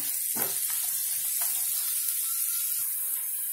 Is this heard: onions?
yes